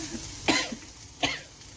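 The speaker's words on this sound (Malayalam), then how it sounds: "മുളക് മൂത്ത് ചുമയ്ക്കാൻ തുടങ്ങിയിട്ടുണ്ട്." Two sharp coughs, a little under a second apart, burst out from someone choking on chili flake fumes as they fry in a pan, close and fairly loud over a quiet kitchen background.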